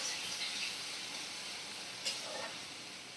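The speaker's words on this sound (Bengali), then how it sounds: "ভালো করে আমি ভাজা করে নেব পেঁয়াজগুলোকে।" Onions and split green chilies fry in a pan for a chicken curry, producing a soft, even sizzle at low level with a brief clink partway through; no talk.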